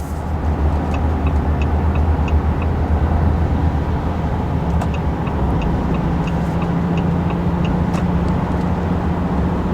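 Inside a 2025 RAM 3500 HO Cummins pickup with an 8-speed ZF transmission cruising at highway speed, a steady, loud drone of engine and road noise holds throughout with no voices.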